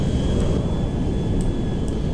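A Boeing 747 jumbo jet's engines in GTA 5 hold a loud, steady, unbroken roar, with no voices over the drone.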